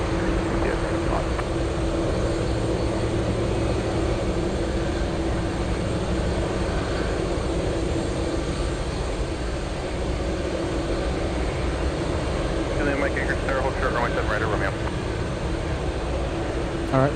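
A jet airliner rolls on the move at Anchorage airport, its steady engine roar filling the whole stretch at close range, with a brief higher whine building near the end.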